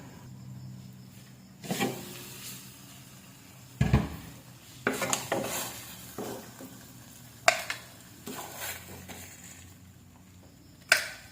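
Pork pieces lifted out of a hot frying pan while preparing pork adobo, with faint sizzling under scattered clinks and scrapes of a utensil against the pan, several sharper knocks standing out.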